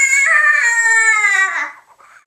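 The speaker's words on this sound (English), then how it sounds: "A cat." A cat gives a single drawn-out, high, plaintive distress cry, loud and close, lasting over a second before trailing off into a faint tail.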